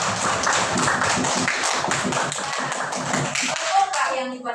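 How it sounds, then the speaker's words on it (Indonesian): Pupils in a primary maths classroom clap their hands in a quick series of sharp, closely spaced claps, with voices talking over part of it. "Tepuk tangan untuk Aisyah."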